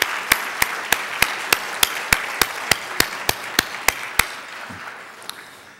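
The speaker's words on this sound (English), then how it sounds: "we should show our appreciation with a round of applause for our sponsors" An audience gives a round of applause for sponsors at an event, heard as a steady train of about sixteen evenly spaced, distinct claps over a low room murmur, fading out at the end.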